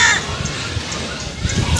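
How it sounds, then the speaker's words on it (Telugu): A crow caws a few times from a coconut tree at a moderate distance over steady outdoor background noise. "కాకి అదిగో అక్కడ కొబ్బరి చెట్టు దగ్గర అరుస్తుంది"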